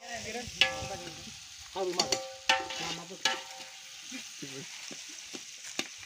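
Onion fries and is stirred in a pan outdoors in a jungle setting while chicken is cooked, with steady close sizzling broken by scraping spoon strokes. Voices murmur faintly in the background.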